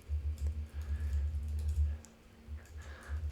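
Typing on a computer keyboard: a quick run of soft, close key taps in a steady rhythm, briefly pausing before a few more bursts of keystrokes.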